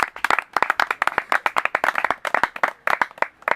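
A church congregation claps for the Lord, producing brisk, rhythmic hand claps from a small group that sound close and fairly loud, with no talking.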